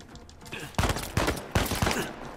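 Gunfire in the video game Uncharted 4 comes as three short, sharp automatic bursts at a moderate level, spaced about a second apart, with no talk over them.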